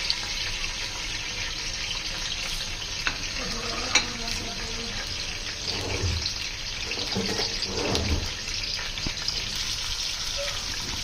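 Chopped onions hit hot oil in a kadai for chana pulao, a steady loud hiss of frying with a few scraping stirs and bursts of sputtering midway, close up and without talk.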